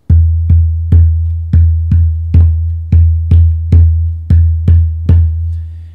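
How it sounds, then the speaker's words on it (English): A Yaqui water drum (bule), a gourd floating upside down on a pool of water, is struck about a dozen times in a steady rhythm, each beat a deep, booming thud with a short decay, close and loud. "And this is a bule, or a water drum."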